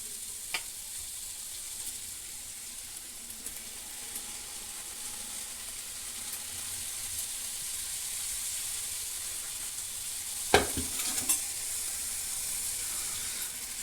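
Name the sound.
diamond-shaped sweet dough frying and being stirred in oil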